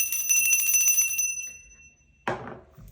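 A small bell rings bright and close with a shimmering tone that fades out, followed after a pause by a single soft knock, in a quiet room used for clearing energy.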